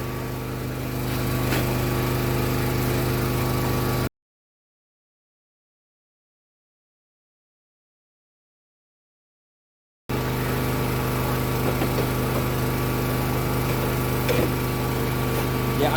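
Steady engine drone of a SkyVac Interceptor gutter vacuum running continuously as it clears over-filled gutters packed with soil, broken by a silent gap in the middle before the same constant roar resumes.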